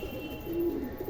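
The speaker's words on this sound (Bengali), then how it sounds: "অনেক দিন পর পায়রা ছাড়তে এলাম" Pigeons cooing nearby, a single low soft throaty coo rising out of quiet outdoor background hum, faint and close, with no speech.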